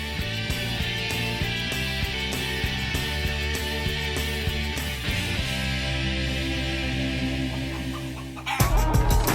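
Laying hens in a farm flock cluck steadily and densely throughout, a close, continuous mix of overlapping calls, with a louder burst of clucking near the end.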